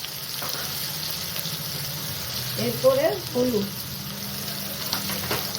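Garlic paste, ginger paste, coriander and cumin powder frying in hot oil, giving a low steady sizzle with a few stirring scrapes midway and no talk over it.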